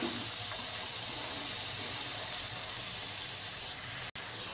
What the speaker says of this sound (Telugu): ఈ ఆనియన్స్ ని ఆయిల్ లో బాగా ఫ్రై చేసుకోవాలి